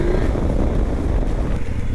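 A KOVE 800 Adventure motorcycle accelerates in fourth gear as the throttle opens, giving a steady, loud engine drone mixed with wind rush and no talking.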